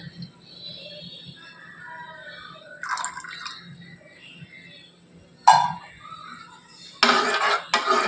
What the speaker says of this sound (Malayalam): അതിലേക്ക് നമുക്ക് ശർക്കര ഒരുക്കിയതും കൂടി ഒഴിച്ചു കൊടുക്കാം